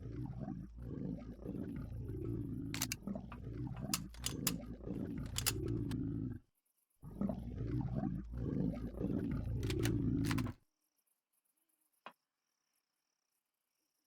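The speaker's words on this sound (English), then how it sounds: "I hear a menacing gurgle." Menacing creature gurgles and growls in Empyrion Galactic Survival, a dense, rumbling run of low snarling noise with sharp clicks. It breaks off briefly, resumes, then cuts out to near silence with one faint tick.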